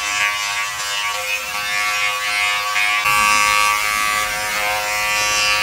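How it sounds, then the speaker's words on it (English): A Philips 7000 BodyGroom electric trimmer shaving armpits, a steady close buzzing whine that runs continuously, its tone shifting slightly midway as the blade meets hair. "Let's shave the armpits then."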